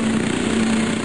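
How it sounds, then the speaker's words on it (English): An early experimental stealth helicopter gives a steady, even engine drone with a fixed low hum running through it, loud and continuous for a brief stretch, with no voices. "This is the sound of an earlier experimental version of a stealth helicopter."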